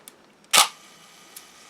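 A Hasselblad camera's shutter mechanism releases with one sharp, fairly loud mechanical snap, followed by a faint brief whir and a small click against a quiet room.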